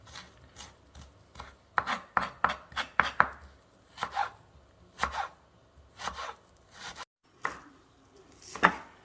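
Knife chopping onions on a cutting board for tilapia fish tacos, a series of crisp close thuds in quick clusters and then spaced single chops, no talk.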